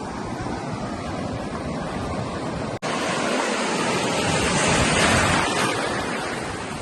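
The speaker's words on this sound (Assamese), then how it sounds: "আহিছে আৰু ঢৌ আহিছে" Ocean waves break on a beach in Goa, making a steady, full surf roar that swells and rushes throughout, with only a brief dip partway through and no voices.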